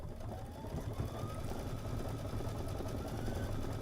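A sewing machine stitches a scarf with a steady, continuous motor whir and a fast, even stitching rhythm that holds at the same level throughout.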